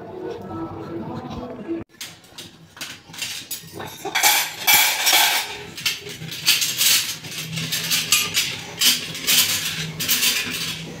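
Metal spoons clink and rattle against dishes and pots in a village kitchen during lunch preparation, a run of close, bright repeated clatters after a brief quieter stretch, with faint voices in the background.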